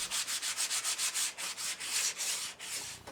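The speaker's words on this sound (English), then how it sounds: "It was at this time that I did the sanding." Sandpaper rubs by hand along a wooden bridge railing in quick back-and-forth strokes, a soft rhythmic scratchy hiss at a steady pace, fairly quiet and close with no talk.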